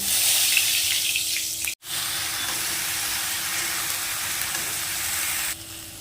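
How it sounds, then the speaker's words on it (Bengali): Raw jackfruit pieces frying in hot oil make a loud, steady, hissing sizzle that briefly cuts out once, then carries on unbroken with no voices. "এঁচোড়গুলো ভেজে নেব।"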